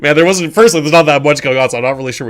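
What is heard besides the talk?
No everyday noise stands out behind the speech.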